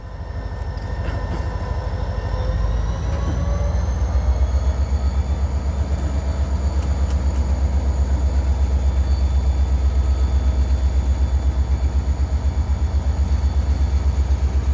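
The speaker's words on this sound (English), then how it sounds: "I'm going to walk up closer to the locomotive. Alright, powering up," An FEC freight locomotive throttles up and pulls out. Its diesel engine builds into a loud, deep, pulsing roar close by, joined by rising whine and rhythmic chugging that hold steady, with no talk.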